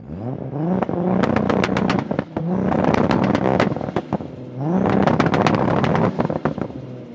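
A powerful Toyota Supra engine revs hard three times, rising in pitch with each burst, crackling and popping between pulls, loud and close.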